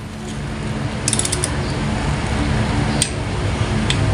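Torque wrench ratcheting as a bolt is tightened to 6.90 Nm, a steady mechanical grinding hum with a few sharp clicks, close and fairly loud.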